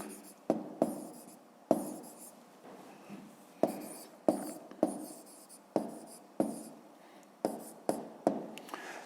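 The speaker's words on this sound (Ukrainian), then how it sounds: "А зараз записуємо відповідь, пишемо відповідь." A pen writes down a maths answer in short bursts of scratching strokes, close and quiet, with brief pauses between each word-length stroke.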